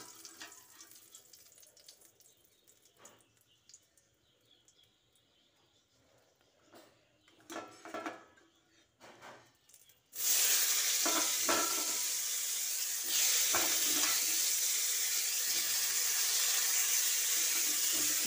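Dried red chillies dropped into hot oil in a home kitchen: quiet clinks and shuffling give way to a sudden loud, steady sizzle that continues strongly to the end, with no speech.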